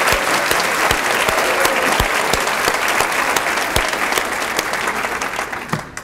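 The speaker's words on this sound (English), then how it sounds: "let's give a round of applause" Sustained applause from a crowd, steady dense clapping with a few sharp louder claps standing out, fading slightly at the end.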